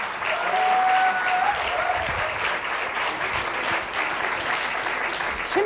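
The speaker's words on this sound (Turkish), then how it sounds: "Alkışları kaptık." A studio audience at a Turkish holiday television show applauds loudly and continuously, the sustained clapping filling the room without pause.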